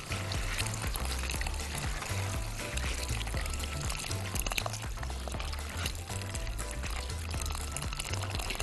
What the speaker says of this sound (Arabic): هننزل بالموية المغلية على طول